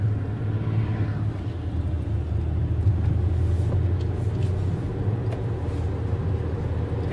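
Steady low road rumble from inside a moving car on a cloudy, rainy day, a continuous engine and tire drone holding at an even level throughout with no talking.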